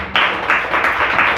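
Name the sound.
congregation applause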